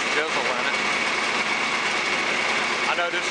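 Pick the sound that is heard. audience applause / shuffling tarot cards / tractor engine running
tractor engine running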